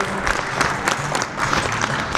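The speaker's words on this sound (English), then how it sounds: "let's just do another round of applause for our fantastic helpers" A round of audience applause for the kitchen helpers at a chef cooking competition, with dense steady clapping from a crowd filling the room throughout.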